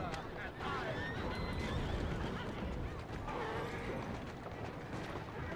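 Horse whinnying in Assassin's Creed Syndicate, pulling a carriage, a drawn-out neigh over continuous rumbling hooves and wheels, with a voice talking over the noise.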